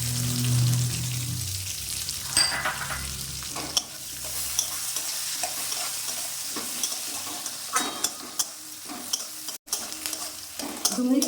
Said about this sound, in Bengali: পেঁয়াজ কুচানো চেরা লঙ্কা দিয়ে দিলাম।